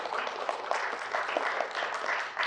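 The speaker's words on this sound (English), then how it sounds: "let's give a round of applause to Tobias." Audience at a keynote talk breaks into steady applause, a dense wash of many hands clapping throughout, moderately loud within the room.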